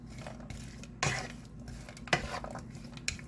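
Peas and carrots being stirred into a cooking pan, with a couple of sharp scraping clatters of utensil against the pan over a low steady background hum, fairly close and without any talk.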